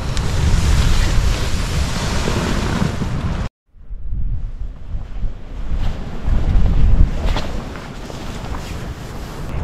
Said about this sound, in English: A little rough out there, a bit windy and rain that wasn't forecast.